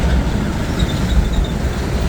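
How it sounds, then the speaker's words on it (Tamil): The Darjeeling toy train running in reverse gives a loud, continuous rumble of rolling wheels and carriages, heard from on board with no talk. "பார்த்தீங்கன்னா ட்ரெயின் ரிவர்ஸில் போயிட்டுருக்கோம்"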